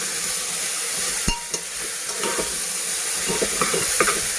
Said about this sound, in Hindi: उसके बाद दोबारा हम इसको अच्छे से मिक्स करेंगे।